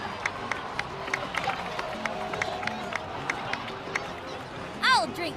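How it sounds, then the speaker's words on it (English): A crowd of game characters in Genshin Impact breaks into applause, a steady patter of many clapping hands with cheering and murmuring voices mixed in, ending in a brief bright chime. "please give another round of applause for them"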